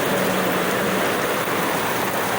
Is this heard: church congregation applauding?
no